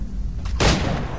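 A single gunshot from a firearm in Assassin's Creed 3 cracks out about halfway through, a sharp, loud burst over a steady bed of in-game ambient noise.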